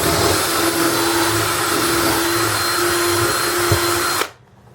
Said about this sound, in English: So grab the old 5/16 drill bit using my DeWalt.